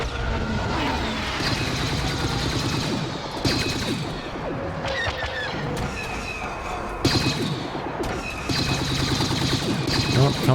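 Rapid turret gunfire in the Star Wars Battlefront game, dense bursts of shots and thudding explosions in loud, near bursts broken by brief pauses, with a battlefield din throughout.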